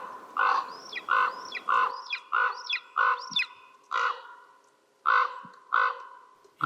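Crows and ravens give a series of loud, harsh caws in quick succession, close by and clear over a quiet outdoor background, with a golden eagle nearby.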